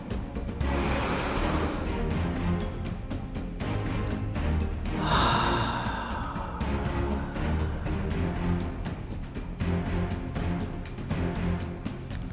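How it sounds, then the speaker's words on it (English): Two long, deep inhales during a guided breathing exercise come through as close, airy hissing breaths over a low, steady background drone. "And another inhale."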